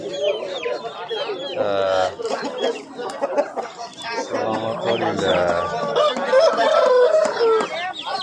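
Poultry at an outdoor bazaar, chickens and young chicks, keep up a loud, steady stream of clucks and crowing calls, while a person speaks briefly and others chatter in the background.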